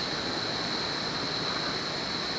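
River water rushing at night, a steady loud broadband roar with no breaks, close and masking everything else.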